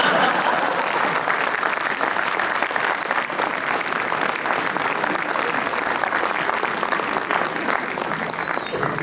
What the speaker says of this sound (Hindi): आप लोग इस्तकबाल कम कर रहे हैं, तालियां कम बजा रहे हैं